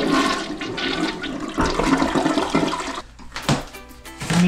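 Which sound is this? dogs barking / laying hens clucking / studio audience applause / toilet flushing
toilet flushing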